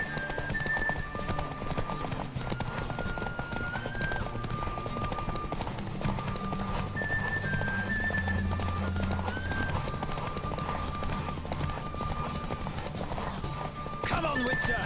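A horse galloping in a Witcher 3 race, its quick drumming hoofbeats running steadily throughout beneath game music, with a voice speaking over it near the end.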